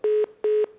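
Two identical steady telephone tones, each roughly a fifth of a second, sound in a clear regular pattern as a phone line drops during a television news call, loud and alone.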